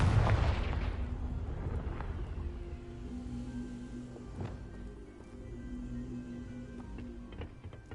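Confringo fire spell exploding in Hogwarts Legacy, a deep boom at the start that rolls away into a low rumble, with faint game ambience and scattered clicks afterward.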